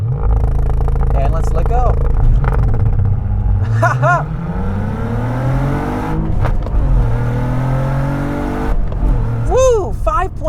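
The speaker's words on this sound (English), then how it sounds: "foot on the clutch, go in first gear, and then rev it out" A 2024 Cadillac CT4-V Blackwing with a manual gearbox revs hard from standstill, then launches and climbs through a gear shift on a wet surface, loud and close under excited talk.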